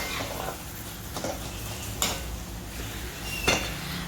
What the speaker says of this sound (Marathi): आता हे फ्राय केलेले ड्रायफ्रूट्स आहेत आपण ते त्याच्यामध्ये घालणार आहोत ते थोडंसं मिक्स करून घ्यायचे आहेत